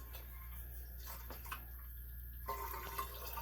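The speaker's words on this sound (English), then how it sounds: "pour the yeast in." Liquid yeast pours into a glass flask, a faint continuous trickle and splash under a steady low hum, with small drips toward the end.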